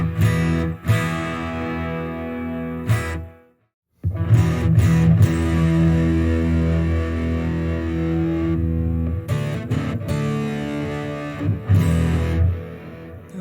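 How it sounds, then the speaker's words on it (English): An electric guitar riff played through a Mosky Black RAT distortion pedal with treble rolled back: loud, thick, sustained distorted chords with short choppy breaks and a full gap of silence early on. "I know this might be getting old with that guitar riff"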